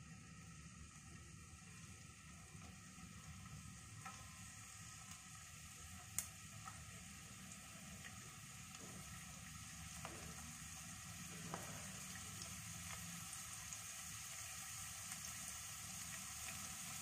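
Garlic goes into a pan for vegetable macaroni and crackles under a faint, continuous sizzle, with a few light clinks and scrapes over low background hum.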